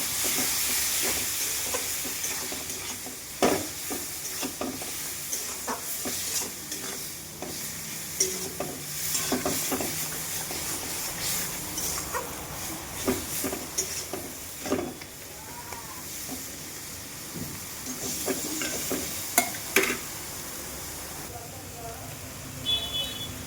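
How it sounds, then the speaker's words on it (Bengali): A paste of ginger, garlic, tomato and onion is stir-fried in a pan for a shrimp and pointed gourd curry. A continuous close sizzle runs throughout, with frequent sharp spatula scrapes and knocks. "একটা মশলা বানিয়ে নিয়ে এরকম মশলাটাকে ভালো করে একটু কষাবো।"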